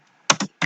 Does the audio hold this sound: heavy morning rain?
no